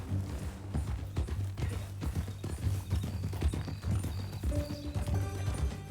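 Horse hooves clip-clop in Red Dead Redemption 2, a steady rhythmic trotting over a low music bed, with occasional snorts and a faint whinny.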